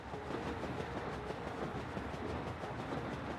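A train rolls steadily in Paper Mario: The Thousand-Year Door, a continuous rumbling rail sound with faint rhythmic clatter, loud and unbroken, with no talking.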